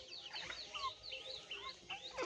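Desi chickens on a backyard poultry farm, a flock clucking and chirping close by in quick, overlapping calls, with no talk over them.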